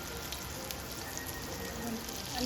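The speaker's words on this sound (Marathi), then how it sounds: "तर एका टाईमवर तव्यामध्ये एवढं बसत होतं तर मी छान आपल्याला मंद भाजून घेतो" Bangda (mackerel) fish frying on a tava over medium heat, a soft continuous sizzle with faint spattering, fairly steady and close.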